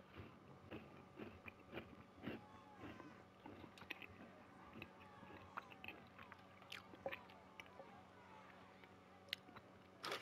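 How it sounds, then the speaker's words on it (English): Soft, close munching and chewing of food in an irregular rhythm of small crunchy bites, faint and quiet against a low room background. "I'm eating on this sucker. If you hear me munching"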